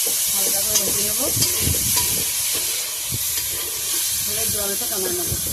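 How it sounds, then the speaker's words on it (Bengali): Food fries lightly in hot oil in a wok for a Bengali recipe, giving a continuous soft sizzle with stirring scrapes and occasional clinks close by. "হালকা করে ভেজে নেবো"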